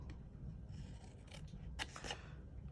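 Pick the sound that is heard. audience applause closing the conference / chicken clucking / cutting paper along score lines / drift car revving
cutting paper along score lines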